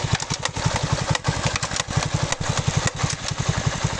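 A Delta moped engine runs with a rusted chain, a close, steady, rapid putter of regular pulses with faint clicking rattles over the top.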